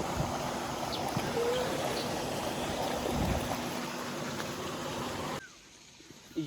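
Irrigation water streaming steadily along a field channel toward a crop field, a constant broad rushing wash that cuts off abruptly near the end and leaves only faint sound.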